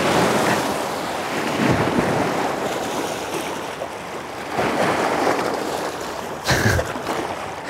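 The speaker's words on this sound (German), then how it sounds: "da kommen ganz schön hohe Wellen" High waves break on a shore in strong wind, a loud continuous roar of surf with surging crashes and gusts buffeting the microphone, no talking.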